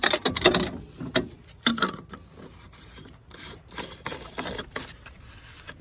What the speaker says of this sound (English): put my cap back on and secure it